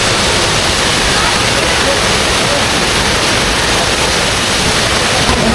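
Kempty Waterfall in Mussoorie roars as a dense, unbroken wash of falling water, loud and close, with no break or change throughout.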